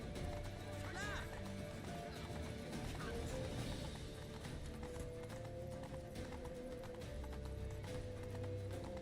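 Horse hooves galloping in The Witcher 3 video game, a steady rapid clip-clop under game music and ambience, with a whinny heard early on.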